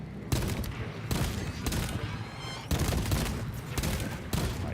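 Rapid bursts of automatic gunfire from Call of Duty: Vanguard, loud and close, coming in several sustained volleys with short gaps between them.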